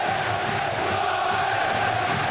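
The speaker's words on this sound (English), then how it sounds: "now we're getting some of the crowd noise that's been very conspicuous in recent home games" Crowd noise at a Portsmouth home football match, a steady broad roar from the stands, brief and unbroken, with no distinct chant or cheer rising above it.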